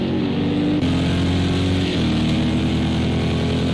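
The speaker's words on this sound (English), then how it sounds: "That is my favourite GTE engine noise, that Corvette." Loud, continuous engine note of a Corvette GTE race car in Project CARS 2 at the Nurburgring, a rich buzzing tone that holds steady and then steps up as the gears change, close by and without any speech.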